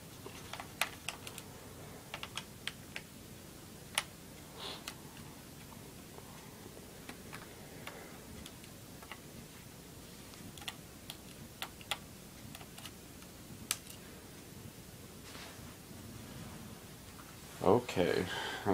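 Screws being taken out of an Acer laptop during cleaning, with scattered small clicks and ticks of a screwdriver and metal screws at irregular intervals, plus a louder clatter near the end, heard close up.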